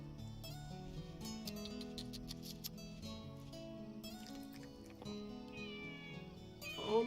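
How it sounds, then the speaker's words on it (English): A striped calico kitten meows in The Good Life video game, several plaintive mews over soft game music, with a louder cry near the end. "Oh, she's a kitten. She's a striped calico."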